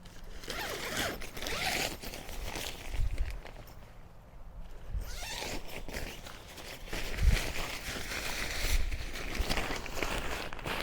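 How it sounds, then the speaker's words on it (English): A small zipper on a camping tent on a remote island is pulled open in repeated rasping bursts. Rustling fabric and shuffling movement surround it, fairly close and soft, with no talk. "Little zipper."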